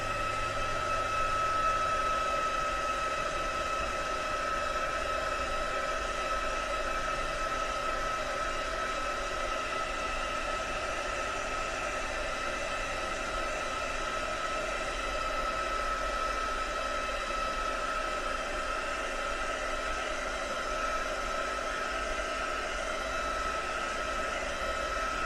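A hair dryer blows steadily on a freshly made craft piece, a continuous close whooshing hiss that holds at one level throughout with no talking.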